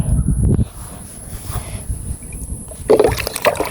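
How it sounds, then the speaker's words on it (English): Water splashes and trickles into the live well of a fishing boat, with louder sloshing bursts at the start and end and quieter dribbling between. "we need to go put water into the live well"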